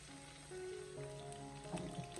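Stuffed bitter melon pieces fry gently in an iron wok over medium-low heat, a soft, steady sizzle with faint crackles and a low hum underneath, quiet and continuous.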